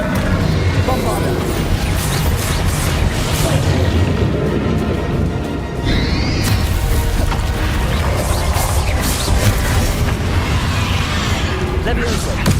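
Bombarda explosion spell and other combat spells cast in the Hogwarts Legacy video game, producing dense booming blasts and crashing impacts over continuous loud action noise, with voices heard over the din.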